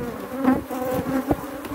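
Honey bees buzz around hive frames, a close, wavering drone of many wings with individual bees sweeping past, continuous and unaccompanied by talk.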